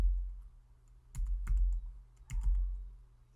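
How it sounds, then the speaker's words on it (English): Typing on a computer keyboard during 3D-modelling work for an RC 3D-printed B-29, heard as a few quiet, separate key clicks in two small pairs over a low steady hum. "we can just type"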